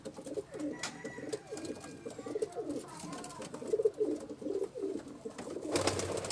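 Sialkoti pigeon cooing on a rooftop, soft repeated low coos in a steady rolling rhythm, fairly close, with some background noise and a brief rustle near the end.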